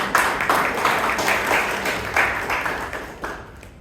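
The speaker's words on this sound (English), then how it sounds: "Let's have one more round of applause for him" Members at a Bangalore Toastmasters club meeting give a round of applause, a lively crackle of many hands with pulsing accents that tapers off at the end.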